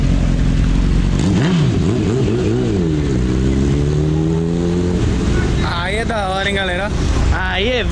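A motorcycle engine drones loudly nearby, its pitch rising and falling as it revs, with wind rushing against the microphone.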